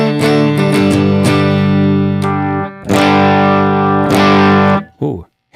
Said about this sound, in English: that's just op-amp clipping, which supposedly is bad